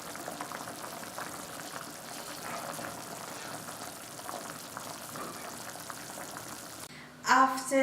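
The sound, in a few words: butternut and apple soup boiling in a pot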